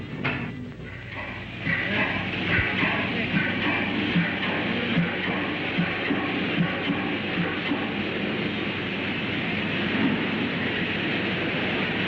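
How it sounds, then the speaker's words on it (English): A train pulls into a railway station, giving a continuous, fairly loud rumble and clatter of wheels and carriages that holds steady for the whole stretch, with no clear voices over it. "The train comes in 10 minutes."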